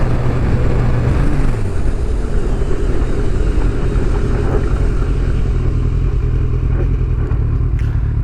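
A motorcycle engine drones loud and close under hard acceleration, its pitch climbing steadily toward redline beneath heavy wind rush.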